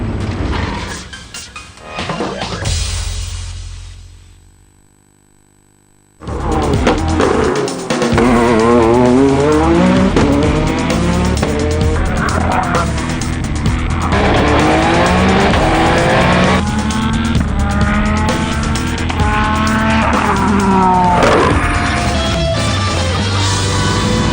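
Cross-country rally vehicles race at the Sun City 450 in 2016, loud engines roaring and revving past with tire noise. A brief near-silent gap interrupts the sound before the engine noise resumes and continues steadily.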